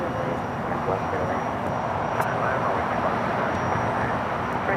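A C-5 heavy military transport on final approach to runway 25 left at LAX produces a broad, steady jet roar at moderate distance, sustained without a break, with faint traffic-like rumble beneath.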